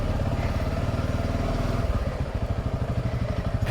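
A motorcycle rides through a restaurant, its engine close and loud with a rapid, even thumping pulse that grows more pronounced toward the end.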